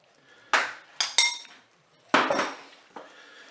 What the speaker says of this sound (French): Voilà, moi je mélange.